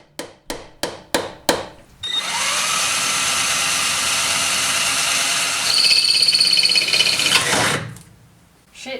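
Several sharp hammer-like knocks precede a power drill boring steadily into the metal body of an MR2 for dent repair, its whine holding for about six seconds, pitching up briefly before spinning down.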